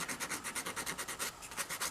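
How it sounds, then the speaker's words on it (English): Light sanding on a broken doll under restoration, smoothing over a repaired crack: close, steady rhythmic rasping strokes about four to five per second, with no voices. "Give it a light sanding."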